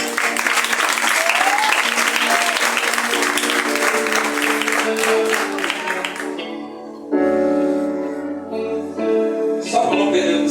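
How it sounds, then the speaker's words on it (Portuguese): A church congregation at a youth congress claps together in praise, dense sustained applause blended with music and voices, dipping briefly before swelling again. "As palmas do nome de Jesus."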